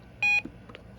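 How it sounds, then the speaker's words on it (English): One short, clear electronic beep from a Reecom R-1630 weather radio, loud and close, followed by faint quiet handling noise and no talking. "And the beep tone."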